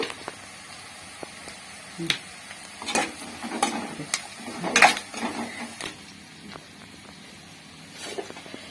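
Onion pieces sprinkled with salt fry in a pan for potato kurma curry, a steady close sizzle broken by irregular sharp clinks and scrapes of stirring.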